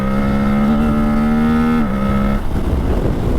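An Aprilia Tuareg 660 parallel-twin engine pulls strongly while riding on Pirelli tyres, its loud steady drone rising in pitch, briefly dropping, then fading into wind and road rumble.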